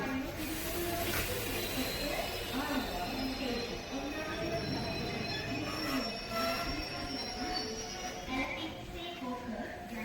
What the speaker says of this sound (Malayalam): ട്രെയിൻ നിർത്തി